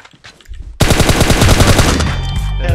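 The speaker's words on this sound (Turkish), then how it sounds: "İçeri gel, uzaktan biri sıkıyor" Gunfire in the video game PUBG Mobile: a burst of rapid automatic shots erupts after a short quiet lead-in and rattles on continuously and loudly to the end.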